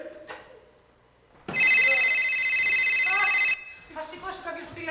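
A loud electronic telephone ring sounds once for about two seconds, close by, between quieter stretches where voices speak.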